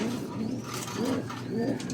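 A pigeon coos in low, rolling phrases, several soft repeated calls close by over a steady hum of background noise.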